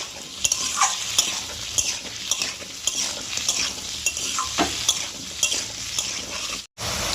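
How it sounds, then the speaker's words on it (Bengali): Potatoes fry in a pan with salt and turmeric, a continuous sizzle broken by repeated scraping strokes of a spatula against the metal, close and clear, with no voices. "হাফ চামচ হলুদ গুঁড়ো দিয়ে দেব দিয়ে ভালো করে ভাজবো আলুটাকে"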